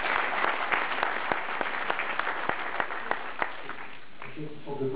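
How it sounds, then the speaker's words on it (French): Standing audience at a political campaign rally applauding, heard as scattered, uneven claps with some sharper individual hits, thinning out toward the end while a voice begins speaking over the fading clapping. "ceux qui sont debout, qui s'applaudissent pour s'encourager"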